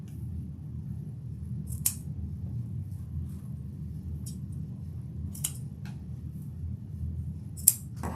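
Scissors snip through deco mesh tails for a wreath, giving a few sharp, scattered cuts over a low room rumble.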